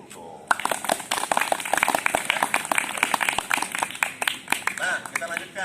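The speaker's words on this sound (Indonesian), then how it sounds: "Tepuk tangan dulu dong." A group of students at a boarding school gathering claps on request, a dense burst of many hands clapping loudly and close for several seconds before it tapers off.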